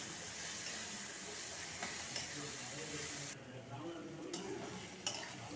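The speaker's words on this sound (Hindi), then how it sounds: "देखिए, प्याज फ्राई हो चुका है।" Onions fry in a pan for chicken curry, giving a steady broadband sizzle with soft stirring scrapes throughout; a brief quieter stretch follows midway, then the frying hiss continues at close range.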